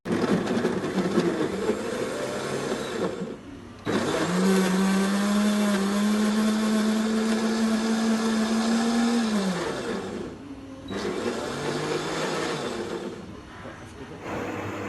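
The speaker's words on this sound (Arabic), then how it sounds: "وكل ده بيتضرب في الخلاط" An electric blender runs steadily for several seconds, whirring a strawberry milkshake of milk and strawberry sauce, with its pitch rising and falling as the mix churns; it stops briefly, then starts again, loud and close under occasional kitchen background.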